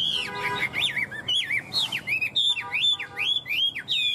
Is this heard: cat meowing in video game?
no